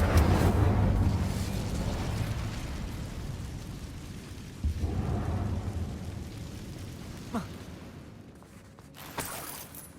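An Incendio fire spell in the video game Hogwarts Legacy bursts with a loud rumbling roar that slowly fades, followed by a few smaller thuds and crackles.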